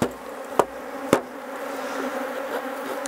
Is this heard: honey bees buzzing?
yes